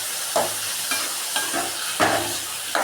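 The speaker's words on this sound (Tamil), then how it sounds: "நம்ம உப்பு போட்டிருக்கோம்ல, அதனால் தக்காளியும் வெங்காயமும் சீக்கிரம் வதங்கிடும்." Tomatoes and onions sauté with salt in a hot pan, a soft steady sizzle broken every half second or so by a spoon scraping and stirring through the mixture, close and fairly quiet.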